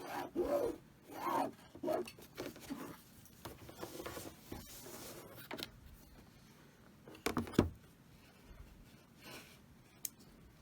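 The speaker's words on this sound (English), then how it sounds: "I'm going to go over 1/4 inch and draw my solid line." A marker draws a solid line on quilt fabric, with faint, close scratchy strokes coming in short intermittent bursts and quiet gaps between them.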